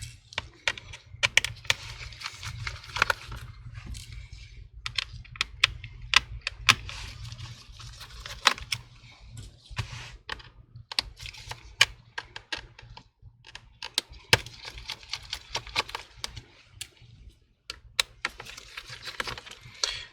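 Screws are removed from the bottom cover of a Lenovo Yoga 6 laptop with a T5 Torx screwdriver, giving close, sparse clicks and small ticks in irregular bursts over a faint low hum, with no talking.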